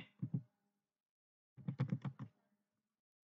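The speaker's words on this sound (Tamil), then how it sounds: "ஓடிபியை டைப் பண்ணிட்டு இருக்கேன்" Fingers tap a one-time passcode on a computer keyboard, a quick pair of keystrokes followed after a pause by a rapid run of about six close, crisp clicks in a quiet room.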